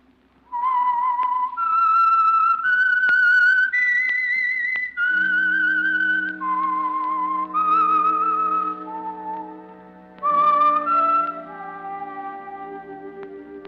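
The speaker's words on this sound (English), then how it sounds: "That whistle is your signal for the Signal Oil program, The Whistler." Theme tune of The Whistler radio program, whistled solo as a clear, loud, sustained melody of held and gliding notes, with a low organ-like tone entering partway through and no talk.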